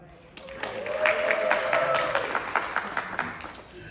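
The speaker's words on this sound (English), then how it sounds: "So we want to give everybody a round of applause together." Round of applause from an audience at a mosque community program, a dense patter of clapping hands rising and filling the room, with a sustained tone and some voices mixed in underneath.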